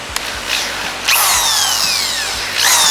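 Power drill spinning a tapered bit into a hole in a motorcycle fork tube, a steady whine rising in two bursts with scraping metal, up close and fairly loud.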